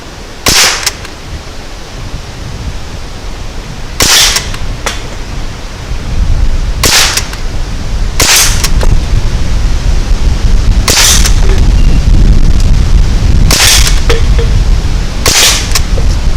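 An Umarex Ruger 10/22 air rifle fires at cans outdoors, giving seven sharp cracks at irregular intervals of a few seconds. They sound against a continuous background rush of wind or ambient noise.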